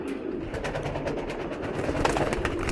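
Racer pigeons, including home-bred birds, coo steadily close by in a loft, a soft continuous murmur of several birds with no talking over it.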